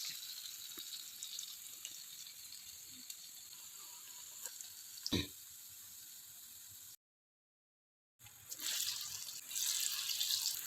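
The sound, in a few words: masala vada frying in hot oil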